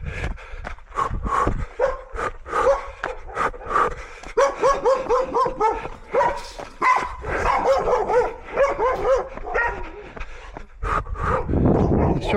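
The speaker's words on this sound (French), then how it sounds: "Surexcité ce chien chaque fois" An overexcited dog barks repeatedly in quick bursts with yips and whimpers, close and loud, continuing throughout with a brief pause near the end.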